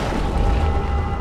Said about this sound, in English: Destroying my siege weapons makes little difference.